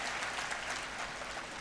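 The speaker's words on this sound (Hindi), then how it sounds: "एक बार इनके लिए भी जोरदार तालियों के साथ अभिनंदन कीजिए" An audience at a spiritual discourse claps loudly and continuously, a dense, steady wash of applause with no voices on top.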